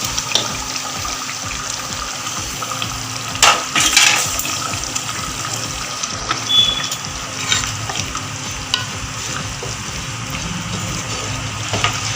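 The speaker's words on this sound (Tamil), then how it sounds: "குழம்பு நல்லா கொதிச்சு இருக்கிறதுல நம்ம வதக்கின கருவாடை இதோட சேர்த்துக்கோங்க" Bubbling and sizzling from a pot of fish curry simmering as fried dried fish is added continue steadily, with a few sharp clinks and stirring splashes, no voices.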